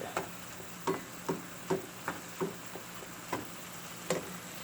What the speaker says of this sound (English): Got to keep on breaking up the beef